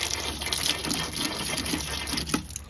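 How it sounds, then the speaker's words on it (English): Running water gushes steadily from a tap, with splashing and shifting flow as hands move under the stream. "Let's rinse my hands off."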